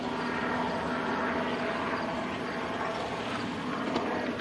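A steady droning rotor and engine hum of a helicopter circling with a searchlight over St. Cloud at evening continues throughout, moderately loud.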